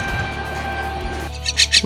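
A pet bird kept at home gives a few short, sharp, high chirps near the end. The chirps are brief and moderately close, heard over a steady low background hum.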